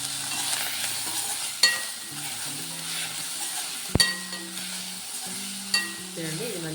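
Curry leaves sizzle in hot oil in a pan for amaranth dal, a steady frying hiss with occasional clinks of a spoon against the pan and faint talk in the background.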